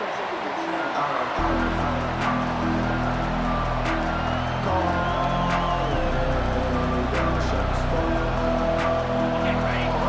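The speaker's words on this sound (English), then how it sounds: "This crowd bringing the energy and noise early." A large stadium crowd in a college football video game roars steadily throughout, a dense wash of cheering with a droning hum underneath, continuous and loud.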